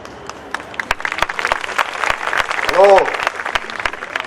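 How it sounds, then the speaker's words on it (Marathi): An audience at a Christian revival meeting claps in a dense crackle of applause that runs throughout, with a voice speaking over it and a brief loud swell of sound near the middle. "सारखा सारखा टाळ्या वाजवू नका"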